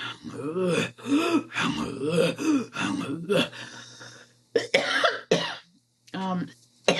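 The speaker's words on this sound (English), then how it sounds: "Sometimes we end up coughing because we're actually accessing our vocal cords" A person speaks, breaking into a short series of coughs and throat-clearing from throat singing, close and fairly loud, with pauses between bursts.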